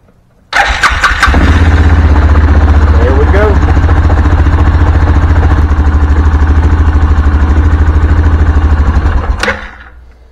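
An Axis 5 UTV engine, just after starter and solenoid repairs, cranks briefly, catches and settles into a loud, steady close-up idle, then cuts off near the end.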